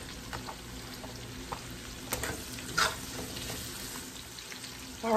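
Vegetables and portobello mushrooms frying in a pan, a steady soft sizzle with occasional stirring scrapes and light clinks, close and fairly quiet throughout.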